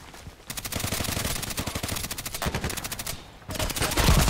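Rapid bursts of machine gun fire in the video game Contract Wars, loud and close, with sustained automatic strings broken by brief pauses.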